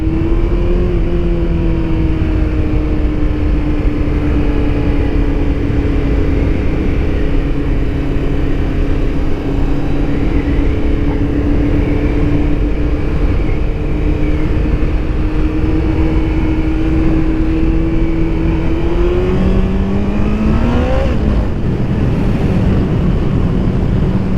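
A Kawasaki ZX14R motorcycle engine drones at a steady, loud pitch while riding, with heavy wind rush over the microphone throughout and a brief rise in revs near the end.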